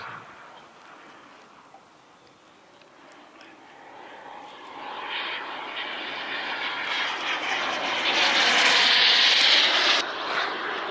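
Model airplane at an aeromodelling meet flying past at high speed, an engine drone that swells steadily from moderate to loud and bright as it nears, peaking close by before easing slightly, heard alone.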